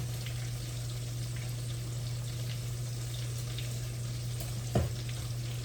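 Fish fillets frying in hot oil give a steady, close sizzle and crackle with a constant low hum beneath, unbroken apart from one brief louder knock near the end.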